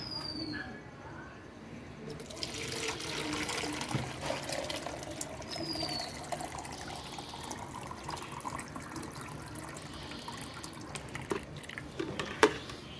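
Soaked liquid plant fertilizer for hibiscus is strained, with faint trickling and dripping liquid running under a low, continuous background, occasional clinks, and no clear talk.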